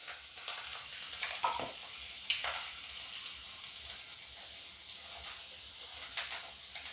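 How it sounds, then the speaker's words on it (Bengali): Steamed cauliflower pieces with turmeric fry in a pan, producing a continuous hissing sizzle with occasional spatters and a few stirring scrapes, heard up close without speech. "খুব ভালো করে ফুলকপিগুলোকে একটু ভেজে নিতে হবে।"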